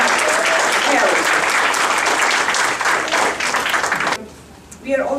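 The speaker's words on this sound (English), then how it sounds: "I would like just to applaud you again for such a wonderful job." Sustained, dense applause from an audience at a Kashmiri Hindu heritage day event fills the hall loudly for about four seconds, then cuts off abruptly and a voice begins speaking.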